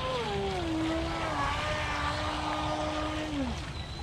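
A Wltoys WL916 brushless RC speedboat on a 3S battery runs at full throttle with full rudder lock, its high electric motor whine steady and loud, then sliding downward in pitch near the end as it turns.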